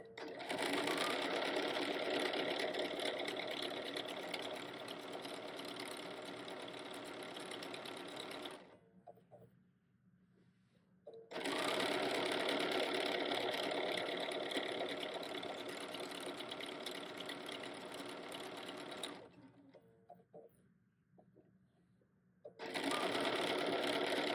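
A sewing machine stitches quilt pieces in long steady runs of fast, even whirring, with two short pauses between runs and no talk during the stitching.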